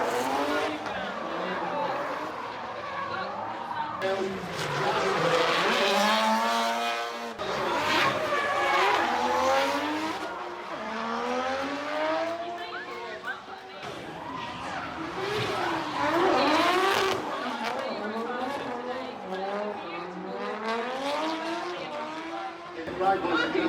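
Fully tuned cars drifting at the Ford Fair car show, engines revving hard with long wavering tire squeals rising and falling as they slide past, loud and continuous, with someone talking over the noise.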